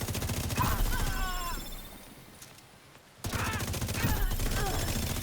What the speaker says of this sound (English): There's actually a lot of screen shake from all of the high RPM weapons shooting